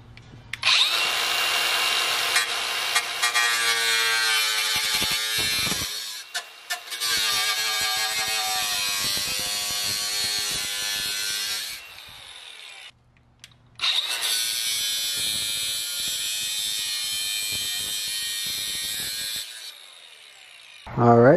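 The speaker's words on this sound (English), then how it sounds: "I'm gonna cut slits and fold them up" A loud, high-pitched power tool grinds and cuts slits into the metal frame of a BMW E46 in long sustained bursts with brief pauses between them.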